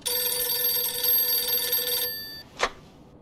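An old-style telephone rings in the Mafia II video game, giving a bright, continuous electric bell ring for about two seconds before it cuts off, followed by a brief click.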